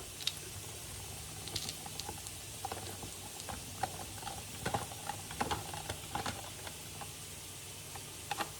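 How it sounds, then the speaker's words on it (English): Small handheld rotary grater shredding cheese for a keto cheeseburger casserole, a quiet close run of rapid scraping clicks and rasps that rise and fall irregularly, with no talk. "Now I like to use a little rotary grater."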